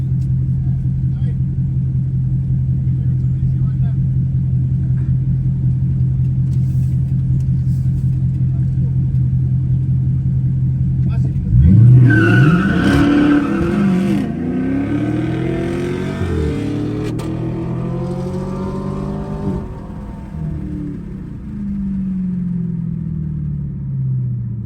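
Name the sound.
car sliding with wheels spinning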